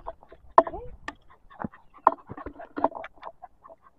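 Chickens cluck and squawk in short, scattered calls close by, mixed with quieter rustling and bits of people talking.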